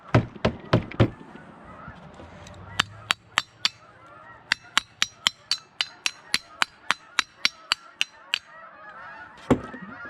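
Geese honk outdoors in a long series of sharp, loud calls, a few quick ones at first, then a steady rhythmic run of about a dozen, with a final pair near the end.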